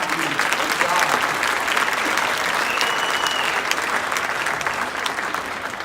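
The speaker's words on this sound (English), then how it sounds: "you can give them a round of applause" An audience applauds a school band at a winter concert, dense continuous clapping that holds steady and thins slightly toward the end.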